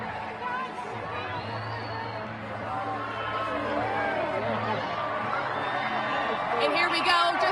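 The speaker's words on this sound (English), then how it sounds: "You can hear the crowd here." An excited crowd gathered outdoors for the 2017 total solar eclipse, a steady murmur of many voices and chatter, with a talker's voice running over the top.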